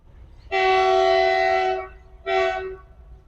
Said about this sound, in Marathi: आपला दुसरा ट्रेन ॲक्शन आहे एका फ्रेट ट्रेनचं आणि तेही डिझेल लोकोमोटिव्हचं